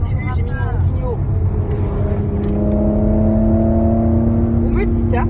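A Porsche Cayenne accelerates on the Nürburgring, its engine revving up with a rising whine heard from inside the car, loud and close, while people talk over it.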